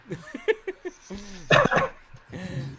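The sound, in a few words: dog barking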